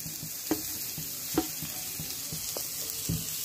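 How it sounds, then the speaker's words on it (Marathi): Tomatoes hit a hot pan with chilli, garlic and ginger, giving a soft, steady sizzle broken by a few sharp clinks of stirring, quiet and close. "आता आपण यामध्येच हे टोमॅटो पण टाकणार आहोत"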